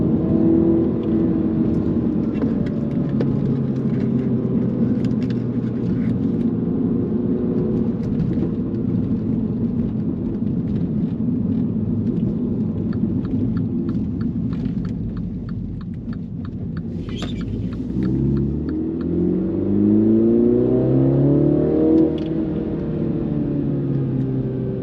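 A Mini John Cooper Works engine, flood-damaged, with its exhaust valve open, hums and drones steadily from inside the car, then rises in pitch as it revs up toward the end.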